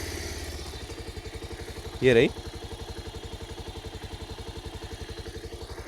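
A 2021 Bajaj Pulsar 220F BS6 motorcycle has its engine running at a steady idle, giving a continuous rhythmic putter. A short louder burst comes about two seconds in, and a brief spoken remark is heard over the engine.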